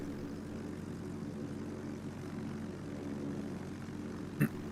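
Carrier aircraft landing in the naval video game World of Warships, a steady droning propeller engine hum with a brief sharp click near the end.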